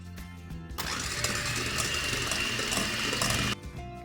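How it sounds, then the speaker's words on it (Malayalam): An egg mixture for a red velvet cake, made without an oven, is beaten with an electric mixer: a close, continuous mechanical whir that starts abruptly and cuts off after about three seconds. "ഇത് നമ്മൾക്കൊന്ന് നന്നായി ബീറ്റ് ചെയ്തെടുക്കുക"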